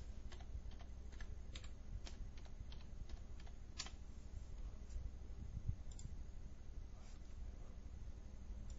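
Keyboard keys tapped to enter a phone feature code, a run of light, irregular clicks heard close up over a steady low hum, with no voices.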